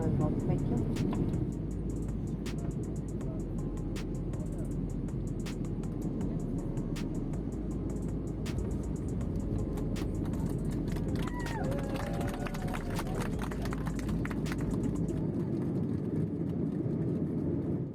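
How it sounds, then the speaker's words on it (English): Inside the cabin of an Uzbekistan Airways Airbus A32x just after landing at Fergana, a steady low engine and rolling rumble fills the whole stretch, with a faint voice passing briefly underneath. "Our plane has just landed at Fergana International Airport."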